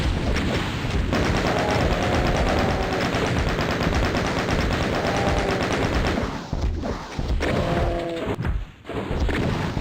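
A dense video-game barrage of enemy gunfire, rapid machine-gun bursts and thumping impacts, loud and nearly continuous with brief pauses near the end.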